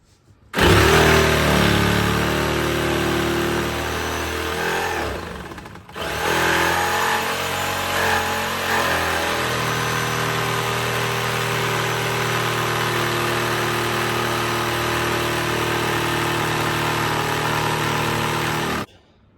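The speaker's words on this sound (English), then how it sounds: "The jigsaw wasn't perpendicular that way, so it just wouldn't cut." A jigsaw cuts MDF board for a model railway helix, giving a loud, close, buzzing motor drone with a brief break midway before the cutting resumes steadily.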